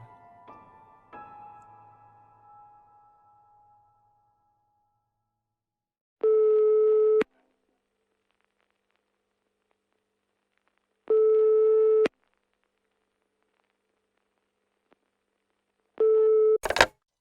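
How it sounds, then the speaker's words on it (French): Telephone ringback tone on a call: three evenly spaced long beeps, each about a second, separated by several seconds of silence, after a faint handling noise at the start; no talking. "Ok, j'appelle. Ah, ça sonne."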